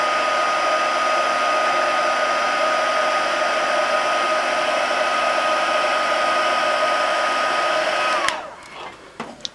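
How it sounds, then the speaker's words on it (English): A heat embossing tool blows with a steady, loud electric whine and rush of air while heating the corner of a card, running continuously for about eight seconds before switching off into faint handling sounds. "So I'm just going to heat emboss one of the corners."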